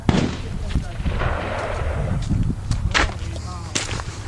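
Gunshots from 9mm pistols at an outdoor shooting range, several sharp reports in quick succession, loud and close, with people talking in between the shots.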